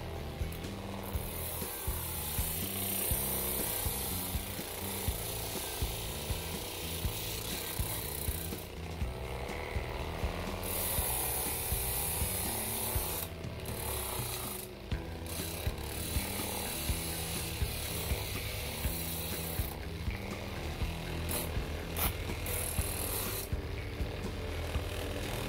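A homemade sander built from a microwave oven fan motor whirs continuously at a low level as fine sandpaper rubs a small piece of wood, with a rough scraping texture and brief pauses.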